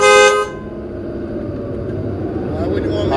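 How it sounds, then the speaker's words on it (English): A car horn gives one loud, steady honk at the very start and cuts off after about half a second, leaving a low background rumble. "Can you please honk your horn?"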